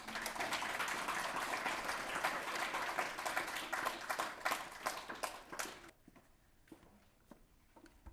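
Audience applause after a speech at a Filipina Network of South Australia celebration, a dense, sustained round of clapping that thins out abruptly near the end into a few scattered claps.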